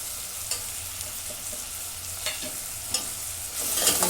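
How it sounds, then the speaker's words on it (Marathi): Ground spices (garam masala, coriander-cumin powder, red chili powder and turmeric) sauté in hot oil, giving a constant sizzle broken by a few spoon scrapes against the pan, swelling louder at the end; no speech. "परतून घेते मसाले"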